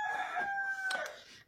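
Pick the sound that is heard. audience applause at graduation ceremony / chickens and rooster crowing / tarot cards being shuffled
chickens and rooster crowing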